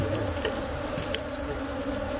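Honey bees swarm around a large apiary of hives at a canola-splitting site, producing a steady, dense drone of many wings that holds level throughout, with a few sharper buzzes passing close.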